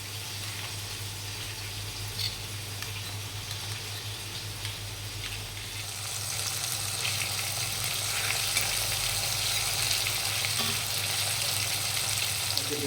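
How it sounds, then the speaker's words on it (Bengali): Fish (pabda) frying in hot oil in a pan, a steady close sizzle with a low hum beneath that grows louder and brighter halfway through, with no talk. "মাছগুলি এক সাইড ভাজা হয়ে গেছে, আমি অপর সাইড উল্টে নিয়েছি ভাজার জন্য"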